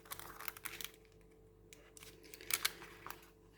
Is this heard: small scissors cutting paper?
yes